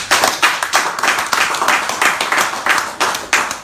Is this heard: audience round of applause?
yes